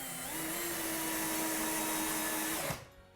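A power screwdriver drives a screw into pre-drilled holes to mount the pelmet for a motorised blackout blind, a steady close whirring hum lasting under three seconds before cutting off abruptly.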